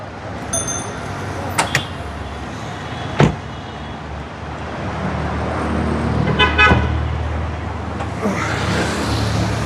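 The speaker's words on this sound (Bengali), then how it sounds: "ইঞ্জিন সাউন্ডটা দেখেন, শুনেন, একবারই স্মুথ" A used Toyota Premio's engine running with a smooth, steady low hum, joined by a few sharp clicks or short toots and a thud near the start, with faint road noise behind.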